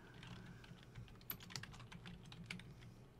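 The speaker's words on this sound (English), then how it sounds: "Now I'm going to type Works Cited" Soft, quiet keystrokes on a computer keyboard while typing in Microsoft Word, an irregular run of light clicks with no speech.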